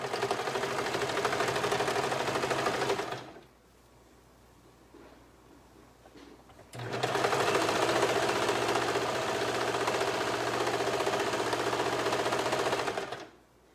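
A sewing machine hums steadily through a bodice side seam in two long, even runs. A brief quieter pause separates the runs, and no one talks.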